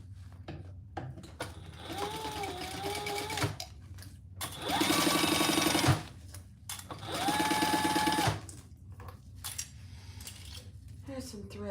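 A sewing machine stitches up a Monarch Mini in three loud bursts of steady motor whir, separated by quieter pauses with faint handling clinks and background hum.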